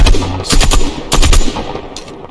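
Loud, close bursts of rapid automatic gunfire in a video game, with shotgun and AUG rifle fire in three separate volleys and no talking.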